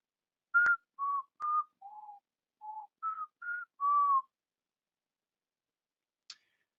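A person whistles a short melody of about eight clear notes into a headset microphone, close and clean against silence, followed by a faint click.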